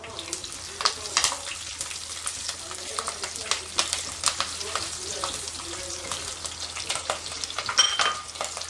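Chillies frying in oil in a heated earthen mud pot for fish gravy, a close busy sizzle with sharp spitting crackles and stirring, under a low hum with no talk.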